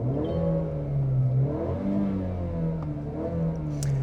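A 2026 Mazda CX-30 turbo engine revs up and down steadily at close range, a smooth mid-pitched drone that rises and falls in pitch with no voices over it.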